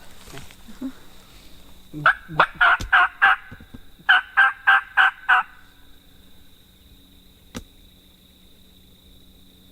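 Wild turkey gobbling in the distance on public hunting land, two rapid rattling bursts of gobbles separated by a short pause, followed by quiet woodland background with a single faint knock.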